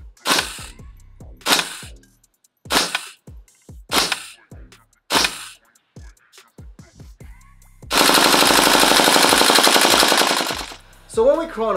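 An EMG/King Arms Daniel Defense DDM4A1 gas blowback airsoft rifle, firing 0.20 gram BBs, cracks out several sharp single shots at a steady pace, then a loud sustained full-auto burst, close and clear.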